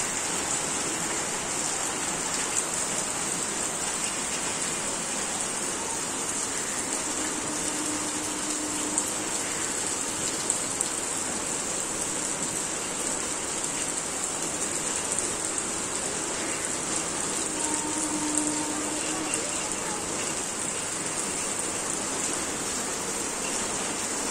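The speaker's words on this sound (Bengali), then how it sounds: "দেখো বৃষ্টি পড়ছে" Steady rain falls continuously on a rooftop, a dense even hiss with no talking, constant in level throughout.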